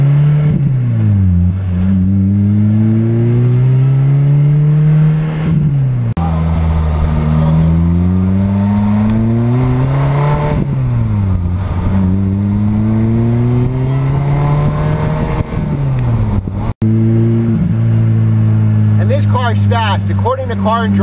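A Lotus Exige S sports car accelerates hard through repeated gear shifts, its engine note climbing and dropping in steady sweeps with loud exhaust noise close by, one brief sharp click near the end.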